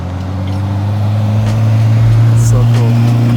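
A Ferrari F40 arrives at a supercar meet in Switzerland, its engine running with a deep, steady low rumble that swells slightly, while people talk over it nearby.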